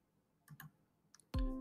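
Spacebar pressed on a computer keyboard while drafting in AutoCAD: a few faint, quiet clicks in quick pairs, followed by a sudden loud tonal burst from the software or speaker.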